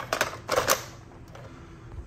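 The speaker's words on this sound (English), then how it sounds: "this brush bar clips in on the back" A brush bar clipped into the back of an iRobot Braava Jet robot mop: a few sharp plastic clicks and snaps close up in the first second, then quiet handling.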